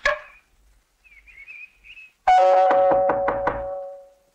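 Sharp knocking raps on a house door, a burst of about five or six loud, close knocks after a brief faint whistle-like tone and a quiet lull.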